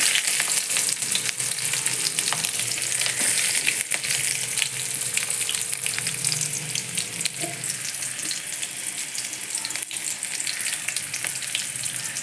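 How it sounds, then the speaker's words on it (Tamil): Steady crackling sizzle of small onions (shallots) frying in hot oil for a bean stir-fry, continuous and close, with occasional stirring scrapes and no voices. "பொடியாக நறுக்கி வச்ச சின்ன வெங்காயத்தை சேர்த்துக்கலாம்"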